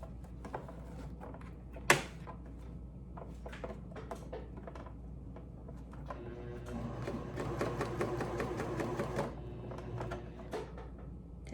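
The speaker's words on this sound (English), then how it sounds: "I'm going to just be stitching right here to close that up" A sewing machine stitches closed the shoulder strap of a lined bridesmaid dress, a soft quick patter of stitches in short runs with a louder burst in the middle, mixed with small handling clicks nearby.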